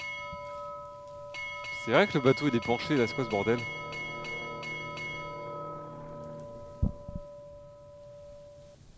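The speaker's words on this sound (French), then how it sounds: "c'est moi qui sonne la cloche" A ship's bell in a Roblox game rings in a quick run of bright, metallic strikes whose tones hang on and slowly fade, while players talk excitedly over it.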